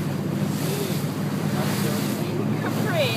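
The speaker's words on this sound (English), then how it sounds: "We're on the Mediterranean Ocean." A boat out on the Mediterranean Sea near the island of Capri, Italy, with steady rushing water, wave wash and heavy wind buffeting the microphone, continuous and loud throughout.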